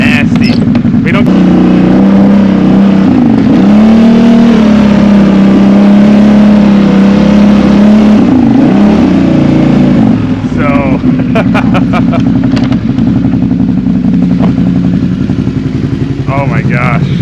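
A Can-Am Renegade 1000 four-wheeler engine runs loud and close, holding a steady drone before revving up and down in short bursts toward the end, with someone talking over it throughout.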